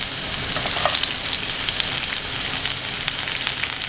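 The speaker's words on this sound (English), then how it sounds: "So I've got some onions, some green chilies and some garlic. I'm going to put it in to this." Onions, green chilies and garlic fry in a pan with a steady, close crackling sizzle that holds at an even loudness throughout, with no voices.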